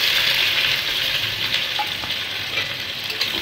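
Onion frying in hot oil with whole cumin seeds, whole garam masala and a bay leaf, a steady close, loud sizzle with faint stirring throughout, no voices.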